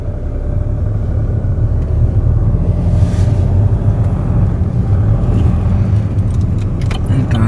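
A car with light throttle climbs a hill on a driving-test route in Nuremberg, a steady low engine and road rumble heard from inside the cabin, with a little rattling.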